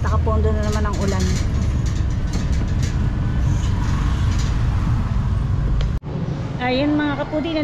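Rainy road traffic in the Philippines, a continuous broad rumble and hiss of engines and wet tires passing close by, with a person speaking over it near the start and end.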